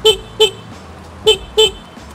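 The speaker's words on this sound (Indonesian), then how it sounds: "Klaksonnya bunyinya standar sih kayak motor-motor lain" Standard motorcycle horn giving four short, loud, close beeps in an irregular pattern, two quick ones, a pause, then two more.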